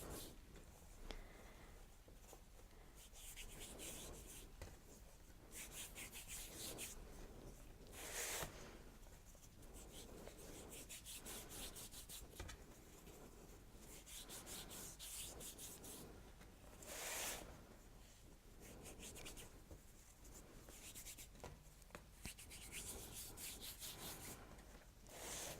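Palms rub fondant around the top edge of a tall cupcake decorated as a mini burger, giving a faint, steady, dry swishing that repeats in gentle strokes with no talk.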